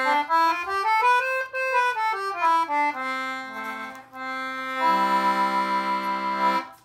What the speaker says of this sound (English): That's an English concertina.